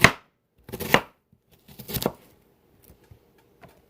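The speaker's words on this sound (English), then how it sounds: "I'm going to do chunks of onions" A knife chops onions into rough chunks on a board: a few separate, fairly quiet chopping strikes spaced about a second apart, fading toward the end, with no voices.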